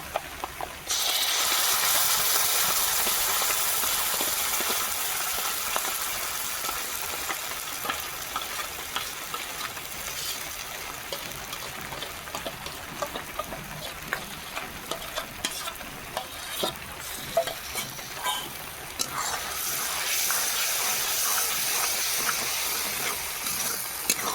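Grated pointed gourd paste frying in hot oil with garlic gives a loud, continuous hiss and sizzle close by, with frequent scraping stir strokes and the sizzle swelling again near the end.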